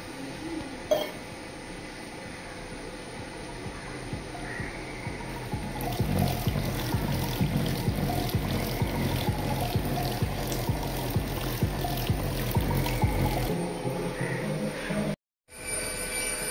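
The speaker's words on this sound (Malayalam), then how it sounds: "വെള്ളം ഒഴിച്ചിട്ടൊന്ന് ജസ്റ്റ് കഴുകുകയും കൂടി വേണം" Water poured over a working 12-inch Dainty subwoofer makes a steady, fairly loud splashing trickle that swells midway and runs for several seconds before stopping abruptly.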